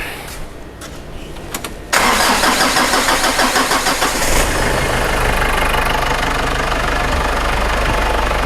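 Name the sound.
car engine starting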